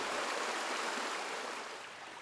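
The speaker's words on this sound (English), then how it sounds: "fast-flowing upland streams such as this one that winds through the woodland" Steady rushing water of a fast-flowing upland stream winding through Haweswater woodland in the Lake District, a continuous broadband hiss and gurgle heard close by with no voices.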